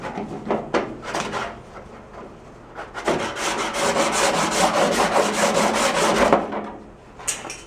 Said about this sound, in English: I went over to cheese grater, and that's just mounted on a block of wood